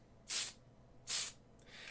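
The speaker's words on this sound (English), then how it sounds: "And we're going to spray it when it looks like that." A rattle can of spray paint primes a pirate figure in two short, close hissing bursts about three quarters of a second apart, followed by a fainter third spray.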